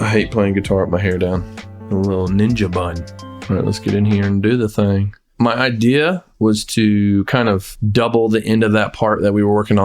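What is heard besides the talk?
None of the usual background noises is heard.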